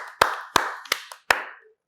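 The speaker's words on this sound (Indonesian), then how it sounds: "Langsung aja kita berikan tepuk tangan yang meriah buat Bang Lutfi." Talk-show welcome for guest Bang Lutfi, heard as four sharp, separate hand claps in slow succession, close and clean with brief decay between each and no voices.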